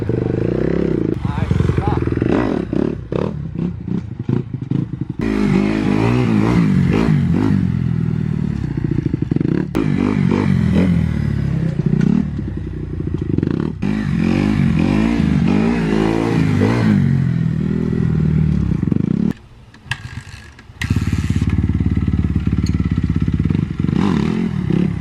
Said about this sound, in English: Just mess around, do some wheelies in the backyard